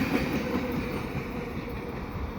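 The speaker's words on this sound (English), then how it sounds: "that's a short train" A short CN freight train led by back-to-back AC44C6M locomotives rolls past at Dorval with a steady rumbling roar and faint rhythmic wheel clatter, close and continuous, no voices.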